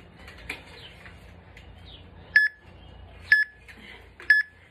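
A workout interval timer gives three short electronic beeps about a second apart, clear and loud over quiet room noise.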